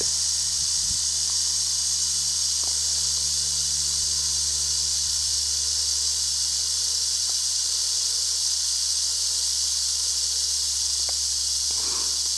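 A rattlesnake in the desert of Blair Valley buzzes its tail rattle in a continuous, steady hiss-like drone that holds for the whole stretch at close range.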